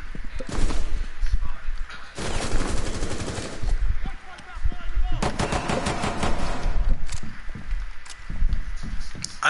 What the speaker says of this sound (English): let's try out the pistol, some pistol action